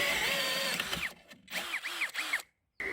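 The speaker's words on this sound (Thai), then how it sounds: "มาใช้เป็นดอกโฮซอกันบ้างนะ ซึ่งตัวนี้เนี่ย มันจะมีขนาดที่ค่อนข้างจะกว้างอยู่นะ25มิล" A TEXUS BULL TX-9633 cordless impact drill runs with a 25 mm hole saw, whining steadily and then biting in a series of short, rising and falling bursts before cutting out, with no talking.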